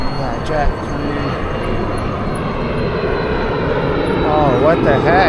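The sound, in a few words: jet airplane coming in to land, then pulling up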